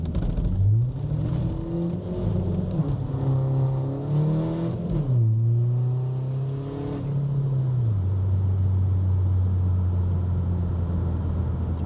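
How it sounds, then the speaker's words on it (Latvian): Škoda Fabia 1.9 PD diesel, tuned to about 350 hp, revs steadily while spinning to warm its tyres, a loud sustained engine drone that rises and falls in pitch with no talk. "Uzsildīsim riepas nedaudz."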